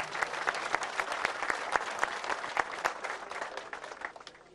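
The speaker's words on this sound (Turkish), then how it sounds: "alkışlara davet ediyoruz." Audience applause at a wrestling welcome ceremony honoring wrestling coaches in Döşemealtı, a steady crowd clapping with sharp individual claps standing out, fairly close and tapering slightly toward the end.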